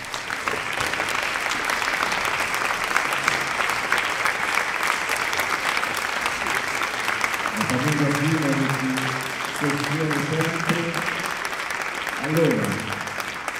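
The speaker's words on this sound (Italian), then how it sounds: "un applauso." Sustained applause from a concert audience at an opera singing competition's gala finale, dense and steady throughout, with a voice speaking over it partway through.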